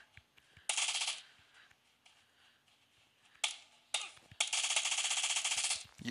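Bursts of M249 light machine gun fire in a video game: a sustained burst, a short pause with single shots, then a long rapid burst, loud and close with no talking.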